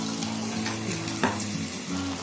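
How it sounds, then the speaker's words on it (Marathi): Water goes into a hot pan of paste for a kofta gravy, giving a steady sizzling bubble with a sharper burst of hissing midway, close by and without speech. "आता याच्यामध्ये पाणी टाकून घेते."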